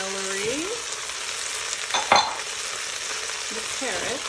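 Chopped onion and celery sizzling in a hot pot as aromatics for lamb stew, a loud steady frying hiss close up, broken midway by a clatter of stirring.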